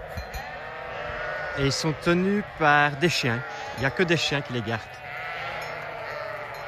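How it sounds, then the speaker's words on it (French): A flock of roughly 400 sheep, herded by dogs in Utah, bleats in a cluster of repeated calls, some overlapping, near and fairly loud, while someone talks in French throughout. "Il y a plus ou moins 400 moutons."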